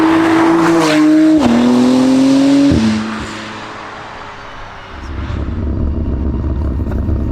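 A 720hp Novitec McLaren Artura with a race exhaust revs loudly up through gears, its engine note climbing and stepping with each shift, then fading as wind and road roar take over.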